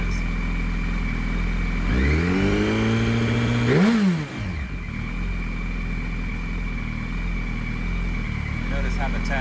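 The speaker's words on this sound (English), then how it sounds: "Let's see me flip the throttle. See how balanced that is." A 2007-2008 Yamaha R1 superbike engine revs sharply when the throttle is flipped, its pitch sweeping up and falling back within about two seconds, then settling into a steady, close idle hum.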